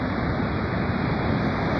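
Surf at Legokjawa beach in Cimerak, Pangandaran, West Java, heard as a steady, dense roar of waves with wind noise, continuous and loud with no voices.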